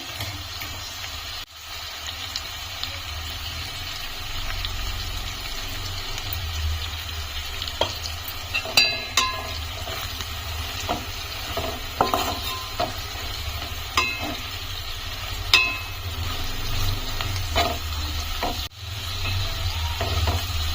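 Onions and dried fish frying in a pan, a steady loud sizzle with a low rumble underneath and occasional sharp spatula scrapes and taps.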